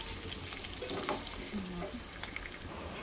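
Dry chicken with coriander being stirred in a hot pan, a soft continuous sizzle and scraping from close by with faint watery clatter and no talk.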